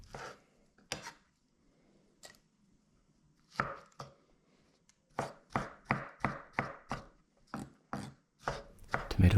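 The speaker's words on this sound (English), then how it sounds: "Chopping up this tomato that was just starting to get a little bit old" A kitchen knife chops through a slightly overripe tomato on a board: a few scattered cuts first, then a quick, steady run of crisp, close-up chops with no talk.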